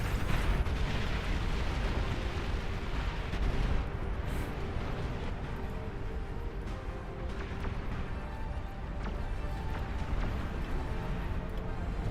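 The Legion T3 launcher fires in the RTS game Beyond All Reason, sending out heavy booming blasts and rumbling explosions in a dense, continuous barrage amid the clatter of battle.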